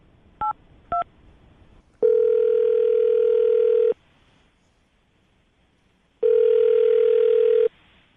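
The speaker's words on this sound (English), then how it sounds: "I'm going to dial the number right now" Two short dialing tones, then a long steady ringback tone that stops and later sounds again, all clear and loud on a telephone line in a radio studio, with no talking.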